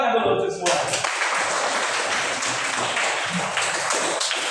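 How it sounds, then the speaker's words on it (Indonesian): Students in a mathematics lesson break into loud, continuous clapping right after a brief spoken phrase, the applause filling the room at close range until the end. "Tepuk tangan dulu untuk semua"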